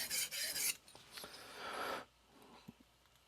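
A knife blade rasps in repeated strokes across a smooth whetstone, close and fairly quiet, the scraping strokes coming in bursts with a few faint taps between them.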